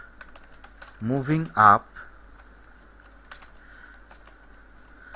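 Code being typed on a computer keyboard in soft, quick key taps scattered throughout, with someone briefly talking over them in the middle.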